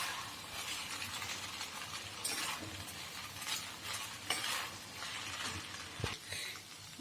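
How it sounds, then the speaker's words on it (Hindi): Veg chowmein noodles tossed in a pan with a fork and a spatula, a soft continuous sizzle broken by repeated scraping and stirring strokes and a few sharp metal clicks, fairly quiet and close. "अभी हम एक फोक लेंगे और एक स्पैचुले से इसको हम मिक्स करेंगे चाउमीन को अच्छे से।"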